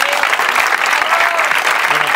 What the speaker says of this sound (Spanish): Aquí el que se merece un aplauso